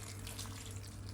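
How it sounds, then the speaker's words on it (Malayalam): Water is poured into a cooking pot while making soya chunks gravy, a steady close trickle and splash running without a break and with nobody talking. "ഇനി ഇതിലേക്ക് നമ്മൾ കുറച്ച് വെള്ളം ഒഴിച്ചു കൊടുക്കാം."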